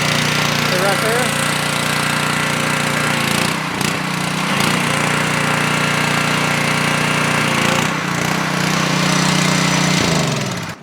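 A gas pressure washer engine on a work skid runs loud and close after a pull start, a dense continuous roar with brief dips in load.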